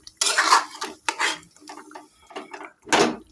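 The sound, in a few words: stirring lemon chicken in a pan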